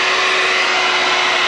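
A vacuum sweeper runs after being switched on, giving a loud, steady high whine with a constant tone, very close and with no talk.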